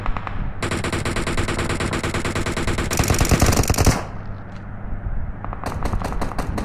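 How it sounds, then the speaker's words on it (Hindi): Automatic gunfire rattles in rapid sustained bursts in a shooting video game, loud and continuous for several seconds, then a quieter tail with a few lighter shots near the end. "गन गन का साउंड बहुत तेज आ रहा है"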